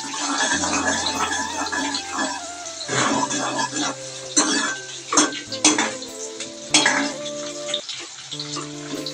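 Onions and curry leaves fry in hot oil for a home-cooked fish sambar, with a continuous sizzle broken by stirring scrapes and clattering pots and utensils close by.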